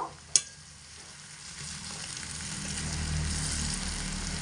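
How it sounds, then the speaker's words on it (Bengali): Pumpkin pieces fry in oil with a soft, even sizzle that grows a little louder, opening with one sharp click, and no talking. "আমি এখানে কুমড়ো তেলের মধ্যে ফেলে এমনি ভেজে নিয়েছি"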